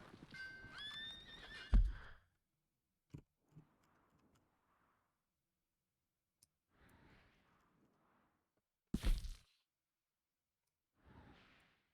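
A horse whinnies loudly at the start in Red Dead Redemption 2, followed by a few soft hoof clops and quiet gaps, with another sharp burst later.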